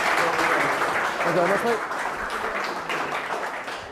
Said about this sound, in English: Round of applause, back to Disney.